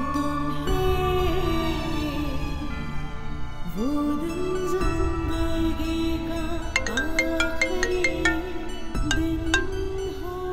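A phone ringtone rings loudly and continuously, a melodic electronic tune repeating its phrase over about ten seconds with no talking.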